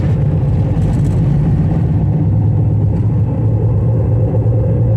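A Chevy car drives along, heard from inside as a loud, steady engine drone and road rumble without any speech.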